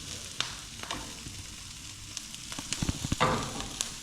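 Sausage, broccoli and kale sizzle in a pan with a soft, constant frying hiss, as a utensil stirs through and sends out a cluster of close scrapes and knocks in the second half.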